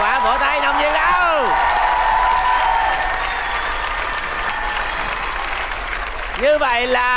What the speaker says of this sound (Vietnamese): vỗ tay nồng nhiệt đâu